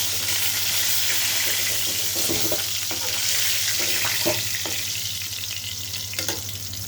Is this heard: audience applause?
no